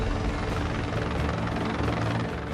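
A rescue helicopter hovers loud and close during a cliff hoist at a San Diego beach, its steady rotor thump and engine roar filling the scene without a break, with no voices over it.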